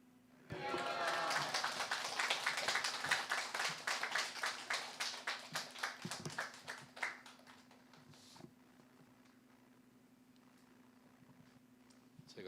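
Congregation in a church service gives a loud burst of rhythmic applause that lasts several seconds, then fades to quiet room tone.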